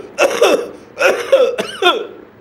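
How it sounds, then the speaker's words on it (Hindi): A person coughs in a few harsh, throaty bursts, close by, with short pauses between them. "इस तरीके से आती है खांसी।"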